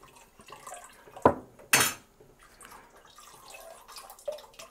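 A pot and utensils handled while extracting a ginger mixture for ginger wine: two sharp metallic clanks close together, then faint dripping and light rattling in a quiet room.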